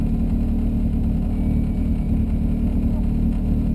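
Mazda Miata in CSP trim during a Pro Solo autocross run, its engine droning steadily and loud from inside the car for the whole stretch, with low rumble and no clear breaks.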